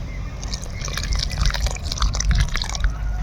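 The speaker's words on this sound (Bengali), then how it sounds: "এই জায়গাত কর্নফ্লাওয়ার তিন চামচের মতো ঘুলি নিয়ে" Cornflour slurry, about three spoonfuls mixed in water, trickling into boiling momo soup, a close liquid pour with soft drips and splashes over the steady bubbling of the broth.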